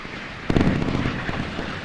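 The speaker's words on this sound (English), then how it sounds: "Look at that naval gunfire going in." Naval gunfire explosions in the naval warfare game Sea Power, a sudden heavy blast followed by a dense, rolling crackle of overlapping detonations and rumble that carries on loudly to the end.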